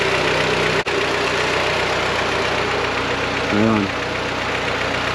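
A BMW G23 boosted engine idles cold with a faint ticking in its steady hum, near and continuous, with a brief dropout early on and a short spoken word near the end.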